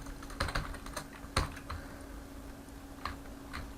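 Light clicking of keys on a computer keyboard, an irregular run of taps with a few sharper strikes, fairly close over a low background hum.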